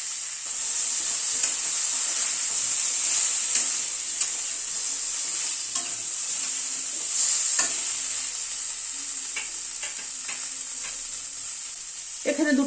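Chopped spring onion fries with vegetables in a pan, giving a continuous bright sizzle with scattered stirring clicks, close and steady for the whole stretch, with no talk.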